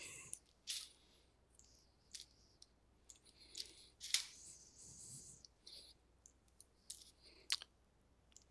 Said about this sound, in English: I'm just going to trim off the wires.